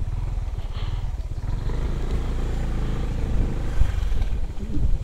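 A Kymco DT X360 motorcycle rolling downhill from a paragliding landing area, its engine a steady rumbling drone close by with some rattling and rising revs near the end, with no talking.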